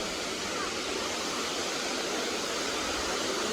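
Aliiw Falls in Luisiana, Laguna pours as a dense, unbroken roar of falling water, loud and close, filling the whole moment without any voices.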